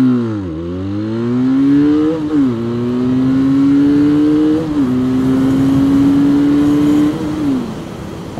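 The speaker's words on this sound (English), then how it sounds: "Talking about the speed of the bike, I feel like we need to accelerate." A Benelli 502C motorcycle accelerates hard and close, its engine note rising through several gears with distinct drops at each shift, loud and alone with no voices.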